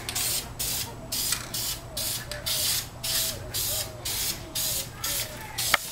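Repeated bursts of aerosol spray paint on brake calipers and drums, a steady rhythm of hissing sprays separated by short pauses, close and fairly loud.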